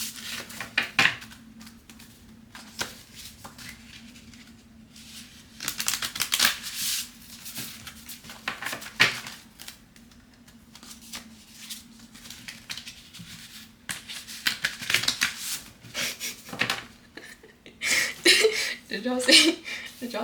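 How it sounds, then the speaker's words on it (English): Large oracle cards are shuffled clumsily in uneven bursts of slapping and sliding, with pauses and a person talking intermittently throughout. "If I can actually shuffle these, though, these things are big."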